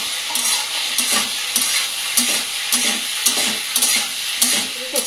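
Previously fried cauliflower is tossed in a pan with sauce, a loud close sizzle broken by regular scraping spatula strokes and clinks about every half second.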